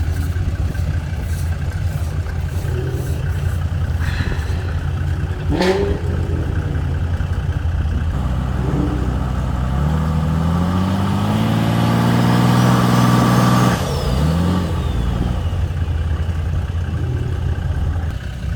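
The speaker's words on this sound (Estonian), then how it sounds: "see seegi lärab nii kõvasti, et kuidagi Karli autot pole kuuldagi" A loud car engine revs hard and rises in pitch, roaring steadily before dropping back to a rough idle, at a drag racing test day.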